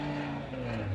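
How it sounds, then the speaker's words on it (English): A Formula Drift Pro 2 car's exhaust drones loud and steady as it climbs a hill, a brief sustained engine note with a low rumble and slight pitch shift. "you can hear that exhaust note"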